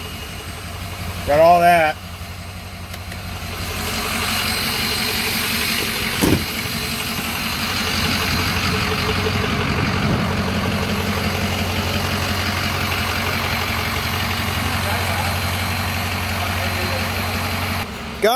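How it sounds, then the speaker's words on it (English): A flatbed truck engine idles in a steady, continuous low rumble that holds close and even throughout, with a short burst of speech near the start. "She's running fine though when it idles."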